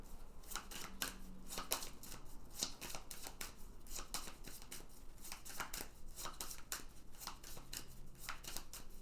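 Tarot cards shuffled, moved and laid down on a table, a steady run of soft papery flicks and slaps close by, continuing without pause and with no talk.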